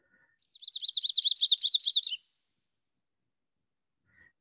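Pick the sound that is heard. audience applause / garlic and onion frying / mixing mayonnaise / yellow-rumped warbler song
yellow-rumped warbler song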